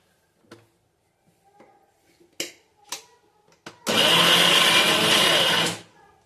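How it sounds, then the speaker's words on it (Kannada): A kitchen mixer grinder whirs loudly as it blends coconut chutney with a little water, a sustained roar lasting about two seconds and following several sharp clicks and knocks of loading the jar. "ಸೊ ಈಗ ಮಿಕ್ಸಿಗೆ ಹಾಕೋಣ."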